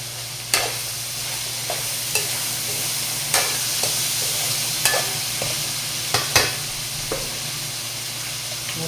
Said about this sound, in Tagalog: Mag-prito pa ako ng isda.